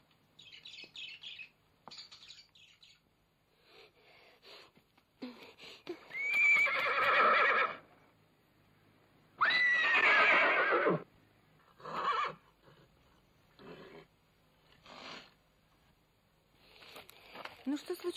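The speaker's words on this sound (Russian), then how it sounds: "Это лошадь." A horse standing in a garage whinnies in several loud, drawn-out bursts separated by pauses, with faint background noise between calls and a brief squeal near the end.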